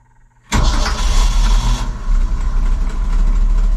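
Old crane truck bought at auction cranks and fires up: a quiet lead-in, then a sudden loud start at about half a second that settles into a rough, heavy diesel-like idle rumbling close to the microphone.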